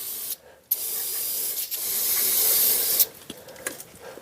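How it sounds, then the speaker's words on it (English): Aerosol cleaner sprays in steady hissing bursts onto a car's mass air flow sensor, one short blast followed by a long continuous spray lasting about two seconds, loud and close with brief pauses between. "I'll spray some of this all around here"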